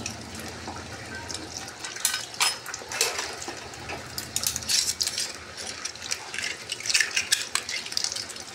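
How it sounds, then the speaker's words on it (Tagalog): Weak trickle of water from a tap, with scattered clinks of dishes and cutlery over the flow, nearby and moderately quiet. "kita nyo naman sobrang hina ng tubig"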